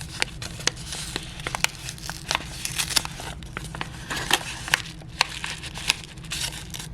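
Plastic packaging for a Traveler's Company notebook charm crinkles and crackles as it is opened, with sharp, irregular rustles and snaps close by and no talking.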